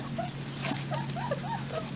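Young Bernese Mountain Dog puppies, about five weeks old, whimper and yip softly in a rapid string of high, thin cries close by, with no talk heard over them.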